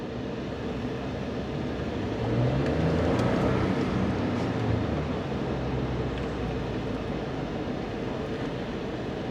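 2.7-liter engine of a 2025 Ford F-150 XL FX4 pickup revving, a steady broad roar that swells briefly then holds, heard from inside the cab with no talk.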